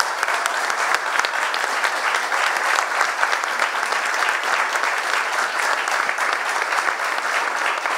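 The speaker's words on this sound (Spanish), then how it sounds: "La recibimos todos con un aplauso porque realmente es muy importante." An audience claps steadily to welcome a speaker at a seminar talk on the struggle of working women, dense and continuous applause filling the whole stretch at close range, with no talking over it.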